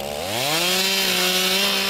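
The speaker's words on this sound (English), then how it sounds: "They had a lot of chainsaws going out here today." Chainsaws cut wood during cleanup after the Lower North Fork Fire in Jefferson County: one engine revs up steeply and then holds a loud, steady, buzzing drone.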